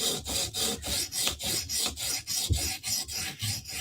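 Spyderco knife blade drawn back and forth over a sharpening stone in steady rhythmic strokes, about two per second, each a close, gritty rasping scrape.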